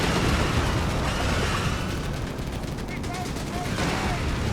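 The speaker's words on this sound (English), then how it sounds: "the FlaK Panzer so far is ripping through the steward's light armor here" FlaK Panzer firing in the video game Company of Heroes 3, dense rapid autocannon bursts and explosions running together into a loud continuous barrage, with a commentator talking over the battle.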